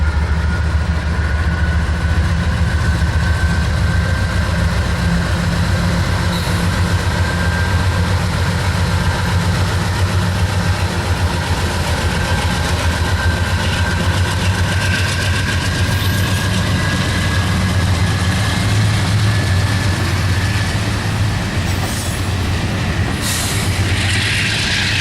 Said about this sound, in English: The first train we see here is a westbound NS freight as it passes the famed Berea